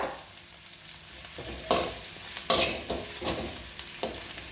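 Eggs frying in a pan for an egg pepper fry, with a steady low sizzle and several distinct scraping stir strokes spaced through the clip, close and fairly quiet, with no talking.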